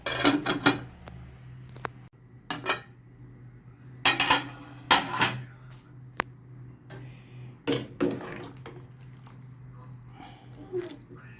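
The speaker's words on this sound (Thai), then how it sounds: "ปิดฝาหม้อเลยปะ" A lid set on a cooking pot of Thai clear soup with pickled cabbage, pork ribs and shiitake mushrooms, heard as several sharp metallic clanks and clatters spread across the clip.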